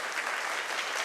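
A large crowd of Ukrainian fans applauds in a cybersport arena during a StarCraft II knockout match: dense, steady clapping at a loud, even level throughout, with no voice heard.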